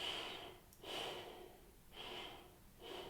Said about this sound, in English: When I'm breathing through my diaphragm, it looks like this.